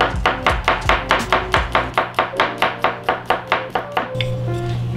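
A knife slices garlic on a cutting board in a quick, even run of about twenty sharp, close chops, then stops, leaving only faint kitchen background.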